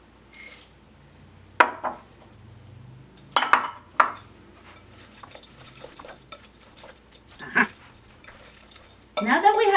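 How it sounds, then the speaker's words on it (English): A banana, oat and chocolate chip mixture is stirred in a bowl, with scattered scraping and clinking strokes of a utensil at close range and some quiet talk in between. "Mix them all together."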